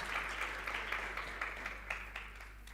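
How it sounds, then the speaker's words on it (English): Audience applause at a lecture event as a panelist walks to the stage, a steady wash of moderately quiet clapping lasting a few seconds, with a low hum underneath. "Please, can we give her a round of applause as she makes her way to the stage?"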